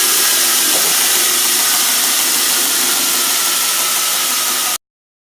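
A polishing machine runs in a pewter casting workshop, a loud, steady, hissing whir that continues unbroken and then cuts off abruptly near the end.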